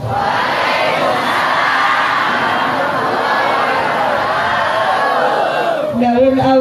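A large crowd at an outdoor gathering in Kadubera, Picung, Pandeglang, Banten shouts a loud, sustained cheer in reply, many voices blending into a roaring wall of sound.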